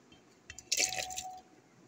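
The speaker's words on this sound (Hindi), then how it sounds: "छोले डाल दिए।" Boiled chickpeas tipped into a cooking pot for a chole dish, a brief wet clatter and splash lasting under a second, close and fairly quiet, with no talking.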